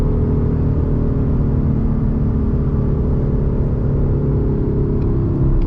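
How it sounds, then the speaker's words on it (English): A 2020 Mustang GT with a Borla S-Type cat-back exhaust idles loudly with a deep, throbbing exhaust rumble, steady and close, without any speech. "Listen to that idle."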